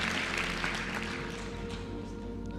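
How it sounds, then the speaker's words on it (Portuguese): Audience at a live money-making class breaks into applause, a steady dense patter of many hands clapping that carries through the whole moment and eases slightly toward the end. "Uma salva de palmas para ele."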